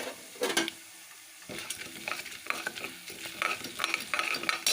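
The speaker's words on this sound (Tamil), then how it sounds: "தேங்காய் எண்ணெய் போட்டு கடுகு, உளுத்தம்பருப்பு, கடலப்பருப்பு, 2 கட்டி பெருங்காயம் போடுறேன்." Mustard seeds, urad dal and chana dal with asafoetida fry in coconut oil for rice upma, giving a close crackling sizzle with irregular bursts of popping and scraping stirs.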